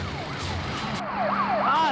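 A police car siren wails in rising and falling sweeps during a car chase in a Hindi-dubbed South Indian action film, fairly loud over engine rumble with no talk.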